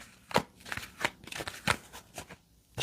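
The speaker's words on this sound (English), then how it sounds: "Shuffle the cards." Playing cards riffled and shuffled in several quick bursts, close and crisp, with short pauses between.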